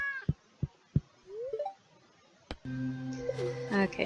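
A cat meows in the farming video game Stardew Valley: a short rising call in the middle of a few soft knocks, followed by a louder stretch of game sounds with brief tonal chirps.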